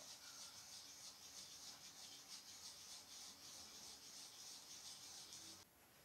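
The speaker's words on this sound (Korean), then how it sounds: "고운 사포로 마무리." A carbon fork steerer tube is sanded with sandpaper after cutting, in a steady, scratchy rubbing that continues without pause, close up, then stops just before the end.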